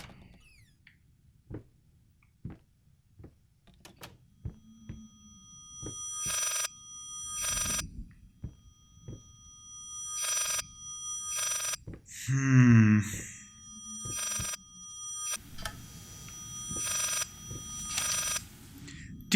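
Repeated ringing of a telephone in the horror video game Layers of Fear, in regular bursts of bright tones over a quiet, creaky game ambience, with a louder voice-like swell in the middle.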